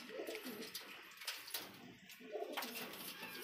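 Desi and Punjabi flying pigeons coo softly, low throaty rolling calls repeating several times in quick succession, close but quiet, with faint background rustle.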